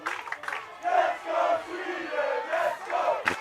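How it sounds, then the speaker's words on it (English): Spectators roar and shout at a field lacrosse match between Poland and Sweden, a dense, swelling crowd noise rising in waves with scattered yells throughout. "The crowd is getting intense."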